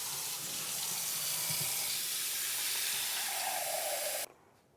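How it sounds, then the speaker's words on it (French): Boiling water pours into a container, a steady hissing rush that grows fuller near the end before stopping sharply, fairly quiet and close. "Vous le remplissez d'eau bouillante et vraiment d'eau bouillante"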